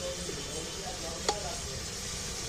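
Potatoes frying in hot oil while being stirred, a steady soft sizzle running throughout with a single brief clink of a utensil against the pan near the middle.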